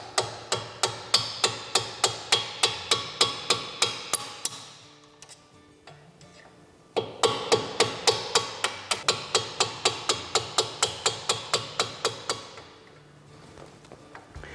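Steel hammer tapping out a brake pad retaining pin on a Porsche 996 911 front caliper: two fast runs of about twenty sharp, evenly spaced metallic strikes, close and loud, split by a brief pause with faint clinks.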